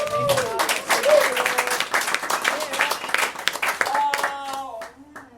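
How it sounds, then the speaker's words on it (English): An improv comedy audience applauds, many hands clapping in a steady wash with a voice speaking over it, the clapping thinning and fading near the end. "give yourselves a round of applause for being"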